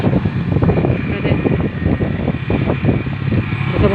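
A motorboat engine drones steadily at sea, a continuous loud mechanical hum with no voices.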